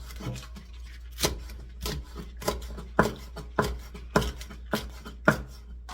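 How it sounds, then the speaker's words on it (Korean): A knife chops one thick stalk of green onion on a cutting board for a braised cutlassfish dish, giving about ten sharp, close knocks at a fairly even, unhurried pace over a faint background. "대파 한 뿌리를 쫑쫑 썰어줍니다."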